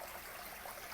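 Water pouring from a koi pond waterfall, a steady broadband rush and trickle, continuous and fairly faint, with no voices.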